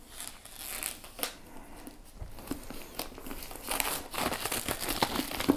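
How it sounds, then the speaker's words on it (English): Plastic wrapping crinkles and tears as an issue of the Warhammer 40K Legends book collection is unwrapped, close and fairly soft, with irregular rustling that grows busier toward the end. "Let's unwrap issue 77 first of all."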